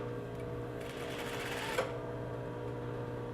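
A sewing machine runs along a western pocket seam, a continuous close mechanical buzz with rapid stitching ticks, briefly louder before a small clunk, then a steady motor hum.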